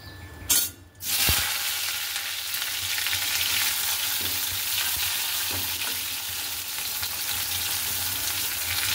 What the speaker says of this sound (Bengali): আমি উচ্ছেটা ভেজে তুলে নিই। তেল আমার গরম হয়ে গেছে